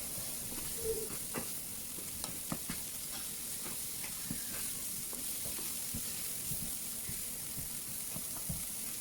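Edamame sautéing with chili flakes and black pepper, a steady quiet sizzle with faint scattered pops and crackles running evenly throughout.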